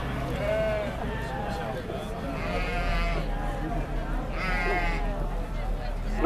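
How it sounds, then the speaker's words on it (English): Sheep bleat repeatedly in a livestock pen at an agricultural show in North Yorkshire, several overlapping calls near and loud, while a voice speaks over a steady crowd murmur. "Non-accredited sheep on my left."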